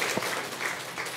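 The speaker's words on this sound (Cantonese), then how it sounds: "我要再俾掌聲嚇" A brief burst of applause from a church worship-workshop audience, a short patter of clapping with one sharp clap standing out, lasting only a moment.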